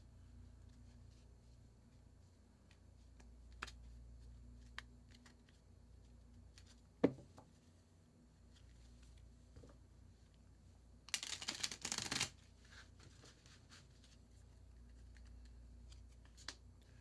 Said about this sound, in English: I'm shuffling these 5 times.